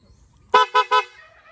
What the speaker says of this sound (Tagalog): So, busina natin parang turotot.